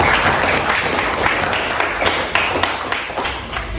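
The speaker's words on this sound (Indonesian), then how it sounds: "Sekarang beri tepuk tangan dulu untuk kalian luar biasa." A class claps for students after a presentation, brisk, close applause from a roomful of people with a few sharper individual claps standing out, lasting a few seconds.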